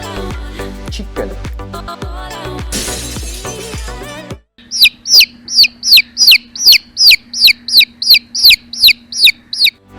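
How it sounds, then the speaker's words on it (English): Chicken sounds: after a stretch of music, a run of about a dozen loud, evenly spaced calls repeats close to the microphone over a low steady hum. "Chicken."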